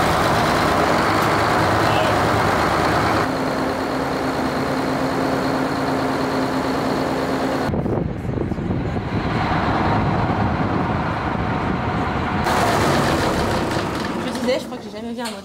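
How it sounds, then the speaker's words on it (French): The engine of a World War II D-Day landing barge built to carry tanks and cargo runs with a steady, low droning hum and a shift in tone partway through. People talk over it. "On peut entendre le bruit du moteur?"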